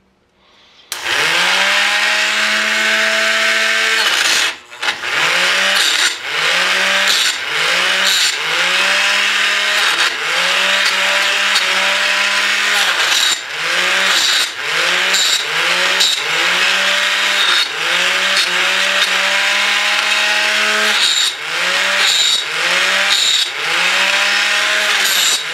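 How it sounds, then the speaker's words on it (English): Loud power tool chamfering rough saw-cut edges of metal brackets for a John Deere deck dolly, its motor droning steadily with repeated dips and surges as it bites into the steel, nearly continuous for the whole stretch. "We're just gonna chamfer off the edges that we cut on the Rollins saw, because they're kind of rough."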